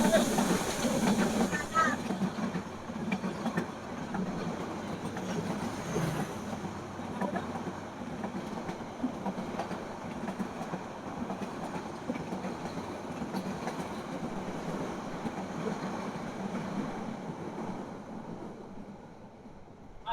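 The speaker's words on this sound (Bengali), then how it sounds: "এটা কোন ট্রেন ছিল নাম জানেন? হ্যাঁ, ও আচ্ছা, সোনার বাংলা" A Sonar Bangla passenger train passes through Feni Junction, its loud, steady rumble and rail noise going on for about twenty seconds, with station hiss and faint voices mixed in.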